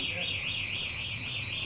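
A fire alarm sounds steadily with a high, shrill warbling tone that rises and falls rapidly, continuous and fairly loud, with low background murmur beneath it.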